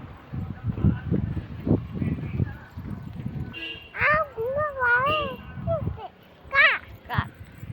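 A cat gives a few drawn-out, rising and falling meows close by, coming in short bursts between stretches of people talking.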